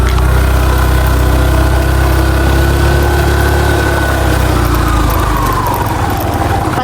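Near a coconut grove, a motorcycle engine runs loud and close in a steady, buzzing idle-like drone, its pitch easing down slightly toward the end, with no other sounds standing out.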